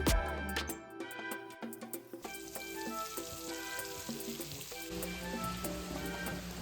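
Chicken pieces for pickle sizzle steadily in hot oil, a close, continuous crackling fry with soft stirring clinks layered over background music.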